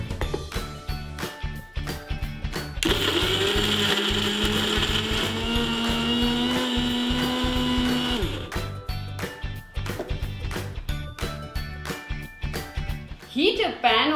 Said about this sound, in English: Make a paste of the onion, dried ghost chilies, ginger, and garlic, and keep aside.